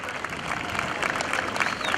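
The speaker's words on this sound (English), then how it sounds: "give a big round of applause for Mr. Bill Leff" Steady applause from an airshow crowd, dense clapping throughout at a constant moderate level with no voices standing out.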